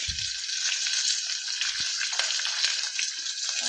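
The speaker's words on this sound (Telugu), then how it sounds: "ముందుగా ఉల్లిపాయలు వేసుకోవాలి రెండు పచ్చిమిర్చి" Onions and two green chillies sizzle in hot oil as the base for a vegetable biryani, a steady bright hiss with a few low knocks from stirring.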